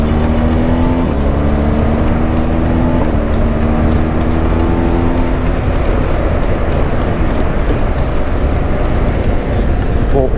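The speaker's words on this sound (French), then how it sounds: "peut-être vous entendiez des sons de moteurs différents, des reprises différentes" A BMW GS Adventure motorcycle engine in dynamic mode revs hard and close, its pitch climbing and dropping in several quick surges over a constant loud roar.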